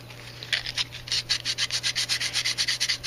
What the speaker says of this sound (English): You can get the sandpaper right in there and give it a nice, good roughing up.